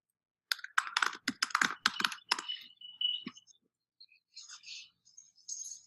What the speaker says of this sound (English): type in their password